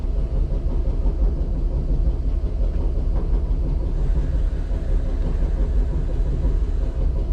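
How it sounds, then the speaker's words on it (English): A vintage R9 New York City subway car runs at the Shore Line Trolley Museum in East Haven, Connecticut, with a loud, steady rumble and rattle that continues without a break and no talk over it. "This is my first time like driving a New York City subway train."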